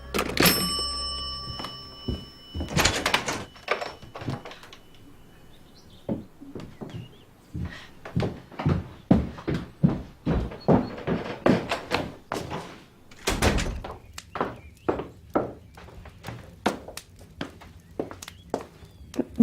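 Door noises in a radio drama: a knock and the clunk of a door opening, followed by a long stretch of steady, close thumping footsteps and movement, with no talking.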